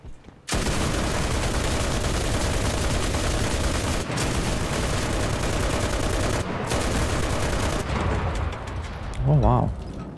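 Sustained, dense automatic gunfire from a heavy machine gun in the WWII shooter Enlisted rattles almost nonstop for ten seconds, briefly breaking twice, then cuts off as the weapon overheats and reloads, leaving a short mechanical clatter.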